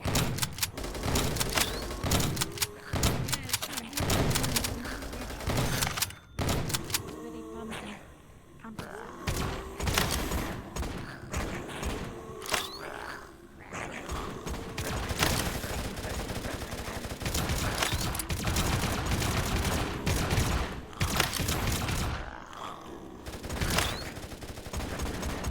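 AK rifle fire in a VRChat shooting game, dense rapid bursts and single shots nearly continuous, loud and close, with voices talking over the gunfire.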